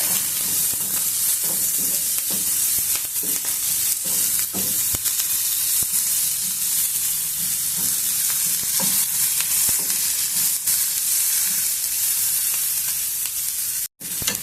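Onions with green chilies and curry leaves fry in a pan for a paneer tomato curry, a continuous loud sizzle and hiss with occasional scraping stirs, close and steady with no talking.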